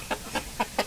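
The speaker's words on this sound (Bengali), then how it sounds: "হ্যাঁ এটা হচ্ছে ডিম পাড়া মুরগি।" A laying hen of a hill-breed chicken clucks four times in quick, evenly spaced short bursts, close and fairly soft, with no voices over it.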